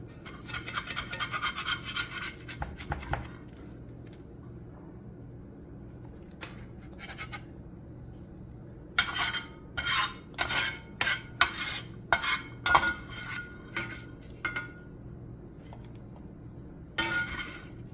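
A utensil scrapes and clinks against a pan and plate while sweet potato hash with peas, onions and eggs is served up, in short bursts of rasping strokes separated by quiet pauses.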